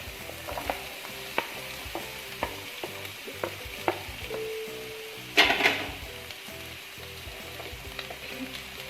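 Garlic and sliced onion frying in hot oil in a pan, a soft continuous sizzle broken by regular clicks and scrapes of stirring and one louder burst of spitting midway.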